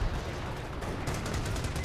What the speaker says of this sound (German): Es gibt gleich einen 8-8-Schuss.